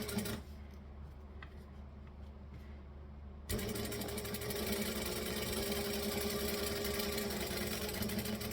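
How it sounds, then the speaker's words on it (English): Sewing machine topstitching a pocket along a drawn line, starting quietly, then running in a loud steady whir with a rapid mechanical needle rhythm after a few seconds, close and continuous with no voices. "we're going to top stitch this along that line that we just drew"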